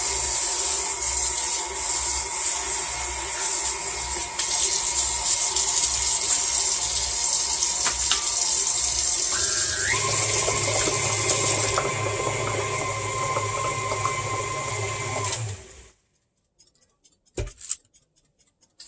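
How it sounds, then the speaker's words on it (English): Kitchen tap water gushes steadily as a spoon is rinsed while making sweet potato pie, loud and close for about sixteen seconds before the flow stops, followed by a few faint clinks. "Rinse my spoon off."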